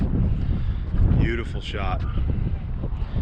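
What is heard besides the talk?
strong wind blowing at Hoover Dam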